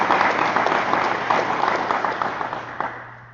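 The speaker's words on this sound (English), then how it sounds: "let's join me one more time for a round of applause for your new mayor and council of the village of Lytton" An audience at a village council inauguration in Lytton applauds the new mayor and council, with dense, steady clapping from many hands in a hall that gradually fades toward the end.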